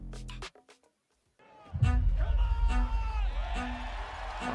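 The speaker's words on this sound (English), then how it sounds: "Oh, he's getting the crowd going." A crowd at an ultimate frisbee game erupts into loud whoops and cheering after a brief silence, swelling and staying energetic, with yells rising above the roar.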